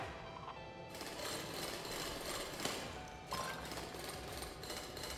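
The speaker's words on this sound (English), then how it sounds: "Continue drilling." Continuous mechanical drilling from the video game Drill Core, a loud, dense grinding roar with rattling machine texture and steady churning that holds throughout, briefly cut by a sharp clank near the middle.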